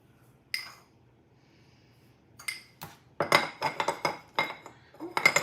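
A lid handled and set back onto a crock pot, with a few isolated clinks followed by a quick run of rattling ceramic and metal knocks at close range, without talk.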